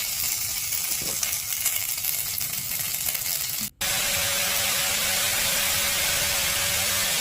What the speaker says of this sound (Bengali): এর সঙ্গে একটু নারকেল কোড়া দিয়ে দিলাম ভাজার জন্য